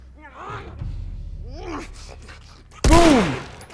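A gunshot from The Last of Us Remastered on PS4 cracks loud and sudden near the end, after a stretch of someone talking over game sounds.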